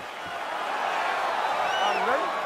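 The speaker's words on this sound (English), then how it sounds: "crowd, getting excited as this fight gets underway" Arena crowd noise in EA Sports UFC 4 as a fight begins, a steady dense roar with rising whoops and cheers building toward the end.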